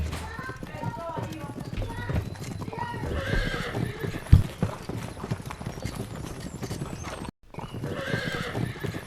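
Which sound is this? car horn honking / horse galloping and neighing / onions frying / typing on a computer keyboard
horse galloping and neighing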